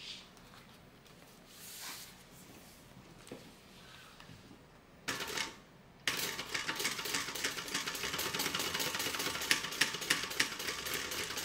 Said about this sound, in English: once again we're going to top stitch